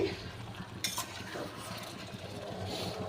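Shredded cabbage sautéing in a pan, stirred with a utensil; a soft, fairly faint sizzle with one brief scraping clatter near the start, otherwise a steady low hiss without speech.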